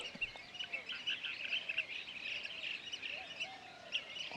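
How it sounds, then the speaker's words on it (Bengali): Blue-tailed bee-eaters call in the background, repeated short trilling chirps from several birds at moderate distance, steady and unbroken over faint ambient noise with no talking. "ব্যাকগ্রাউন্ডে যে পাখিগুলির কল বা ডাক শুনতে পাচ্ছেন সেগুলি কিন্তু ব্লু টেইলড বি ইটার বা বড় বাঁশপাতি পাখির কল।"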